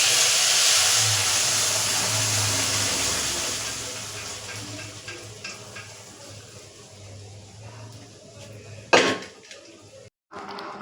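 Bay leaves, dried red chillies and five-spice seeds hit hot oil for dal tempering in a home kitchen, giving a loud hissing sizzle that gradually fades, with a brief clatter of utensils near the end.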